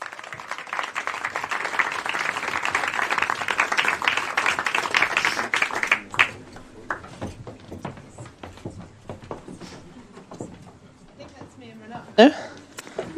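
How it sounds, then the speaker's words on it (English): Conference audience applauding at a climate narratives session in Davos, a dense steady clapping that fills the first six seconds, then thins to scattered claps and murmur with a speaker's voice over it. "Another last round of applause."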